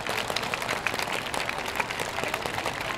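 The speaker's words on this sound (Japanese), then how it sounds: "皆さん拍手お願いいたします。" Audience applause at the Senshu YOSAKOI Eejanaika festival in 2022, greeting a dance team: a steady, moderately loud patter of many hands, continuous and evenly spread throughout.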